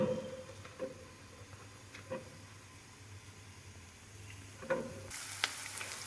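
Cumin, a whole onion and cut green chili fry in hot oil while being stirred until golden brown: a soft, steady sizzle broken by a few sharp clicks and scrapes, with a brighter hissing burst near the end.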